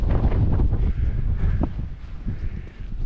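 Strong wind on an open fell during an Easter hike to Cross Fell buffets the microphone in a loud, continuous low roar that eases slightly toward the end.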